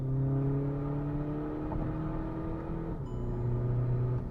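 A tuned stage 3 Skoda Laura drops two gears and accelerates hard, its engine droning loudly with rising pitch, then a brief dip at a gear change before pulling steadily again, heard from inside the car.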